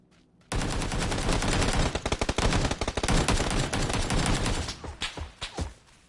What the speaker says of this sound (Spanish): Tiene una escopeta.